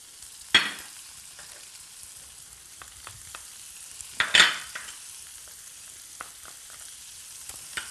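Low, steady sizzle of baby corn, corn and peas frying in a pan, with two sharper bursts of crackling and scattered small pops and clinks.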